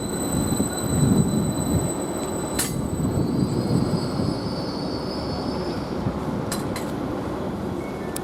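A Greater Anglia train to Ipswich pulls into Ely station, a steady rumble of wheels on rail with sharp brief squeals and a thin high whine, no voices.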